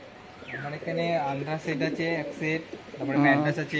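Pigeons kept in a home loft, including Mesim pigeons, cooing in soft repeated rolling calls close by, mixed with people talking over them.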